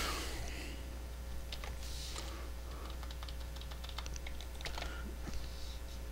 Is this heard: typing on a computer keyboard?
yes